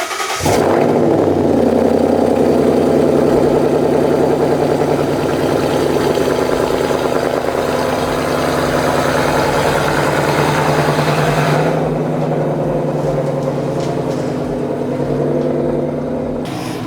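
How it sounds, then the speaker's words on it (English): A 2014 Ford Mustang GT V8 with Flowmaster exhaust cranks and fires up loudly on a cold start, then settles into a deep, steady, burbling idle that continues without talk. "I'm going to do a quick cold start"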